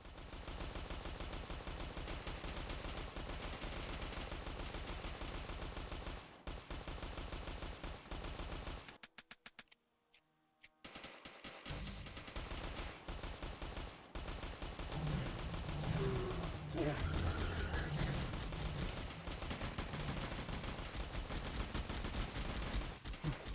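Continuous rapid gunfire from the twin-stick top-down shooter game Mad Devils, steady and dense for most of the stretch, stopping briefly to near silence midway and then resuming, with no talk.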